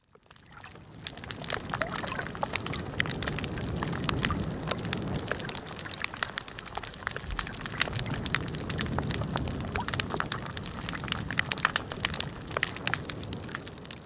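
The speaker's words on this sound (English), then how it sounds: "a kind of sound like Rice Krispies, that snap, crackle and pop, which is basically fish gnawing on coral" Fish gnawing on coral on a reef, a dense field of sharp snapping and crackling pops like breakfast cereal, scattered irregularly over a soft underwater wash throughout.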